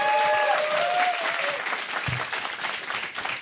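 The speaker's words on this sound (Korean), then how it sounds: "다시 한번 우리 김봉진 대표 여러분 환영의 박수" A studio audience at a Korean talk show claps to welcome a guest, giving dense, loud, sustained applause from the start with a brief tonal whoop or whistle early on and no talk.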